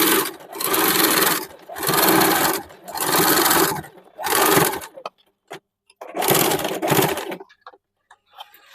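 A sewing machine stitches a suit made from an old saree, running in several loud, steady bursts separated by short pauses, with a few faint clicks near the end.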